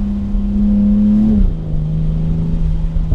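BMW X3 M40i engine pulling hard under acceleration in rainy city traffic, a steady loud drone rising in pitch, then dropping sharply at a shift around the midpoint and settling into a lower, even tone, heard from inside the car.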